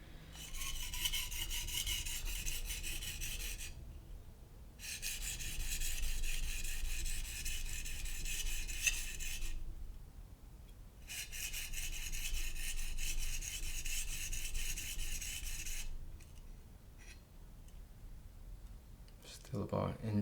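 A knife blade being hand-sharpened by a blind man, rasping strokes running in long steady bursts separated by brief pauses, close and moderately loud.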